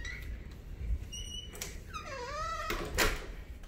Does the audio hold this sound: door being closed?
yes